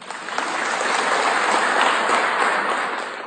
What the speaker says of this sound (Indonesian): Bu Menteri beri tepuk tangan dong.